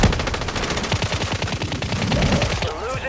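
Rapid automatic gunfire in a video game shooter, dense bursts of close, loud shots firing in quick succession for several seconds with barely a pause.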